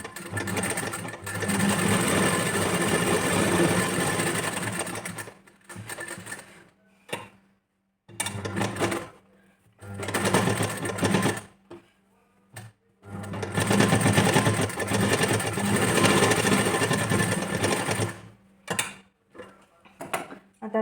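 Sewing machine stitching a blouse with embellished work, running loudly up close in long continuous stretches broken by short stops and a few quick start-stop bursts, with no voices.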